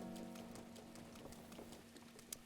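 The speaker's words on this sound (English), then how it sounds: "Sure does rain a lot in this game" Rain in the video game Zelda: Breath of the Wild patters faintly and steadily, with scattered soft drop taps over a low constant tonal hum.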